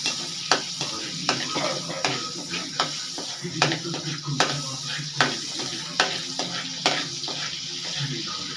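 Butter sizzles as it melts in a pan, a close crackle punctuated by regular scraping and tapping strokes of a spoon stirring, with no voices.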